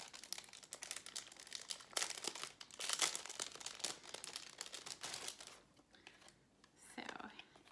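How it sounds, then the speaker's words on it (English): A Disney pin unwrapped from its plastic packaging, close crinkling and rustling of plastic in irregular bursts, with faint whispery speech mixed in. "So let me take it out of its packaging."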